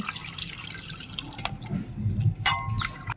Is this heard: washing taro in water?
yes